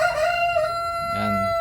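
Silkie hen around eight months old, just after laying her first egg: a close, drawn-out, rising call and a short low cluck, heard alone.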